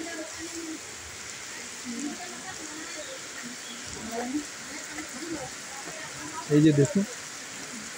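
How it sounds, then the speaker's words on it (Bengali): Heavy rain falls steadily beside a railway line at Sonamukhi as a continuous soft hiss. A voice speaks briefly near the end. "সকাল থেকেই বৃষ্টি, চরম বৃষ্টি হচ্ছে।"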